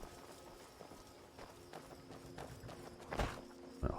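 A horse's hooves clop along in the video game Skyrim near the north gate of Riften, faint and irregular at first, then a couple of louder, sharper hoof strikes toward the end.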